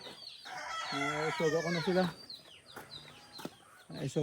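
Farm chickens cluck and call in a close flurry, with a rising crow-like cry in the middle and a person speaking briefly among the birds.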